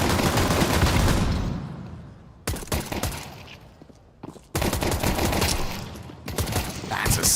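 Gunfire during a competitive Counter-Strike match in a PGL Astana 2026 quarterfinal: dense bursts of rapid shots, loud and close, broken by short quieter gaps before new volleys, with commentary voices underneath.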